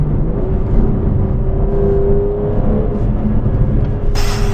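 An Aston Martin Vanquish V12 cruises under load, its deep engine drone steady and close with a rising tone, ending in a sudden burst of hiss.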